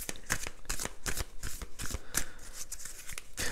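Tarot cards being shuffled by hand, repeated crisp riffling flutters in an irregular rhythm, close and clear, with no talking.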